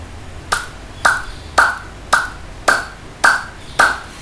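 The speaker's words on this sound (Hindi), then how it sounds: "ऐसी ताली।" One person demonstrates hand clapping with seven sharp, close claps in a steady, even rhythm, each about half a second apart, against a quiet background.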